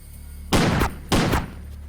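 Two sharp, loud bursts of gunfire from an Indian film about half a second apart, each with a short ringing tail, against a quiet hum.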